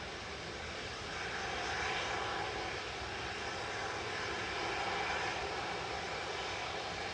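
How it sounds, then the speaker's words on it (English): A TUI Boeing 737 MAX 8 departs Manchester Airport for Verona, its jet engines giving a steady, fairly loud broadband roar that swells slightly and holds throughout with no talk. "TUI departing to Verona with the MAX 8, flight 2628"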